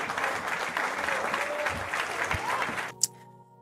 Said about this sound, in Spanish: fuerte aplauso, chicos